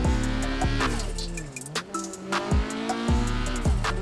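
Game car in GTA 5 driving and revving, engine pitch rising and falling between gear changes with a brief tire squeal, loud and close, no one talking.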